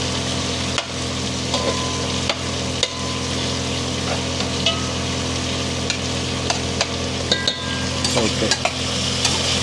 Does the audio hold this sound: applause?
no